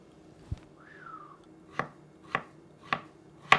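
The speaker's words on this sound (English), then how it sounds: "I'm gonna cut some avocado to go along with this." A knife slicing avocado on a cutting board for fish tacos gives five sharp, close chopping knocks at uneven intervals, with a short whistle-like tone early on.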